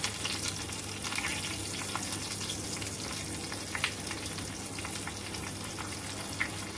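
Green chillies and curry leaves sizzle loudly and steadily in hot oil, a dense crackling fry with small pops throughout and no voices.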